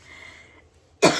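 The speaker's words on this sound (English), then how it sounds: "as soon as you start talking, you start to cough" A single short burst of coughing breaks in suddenly after a quiet stretch, loud and close, from a person sitting indoors chatting about crayon art.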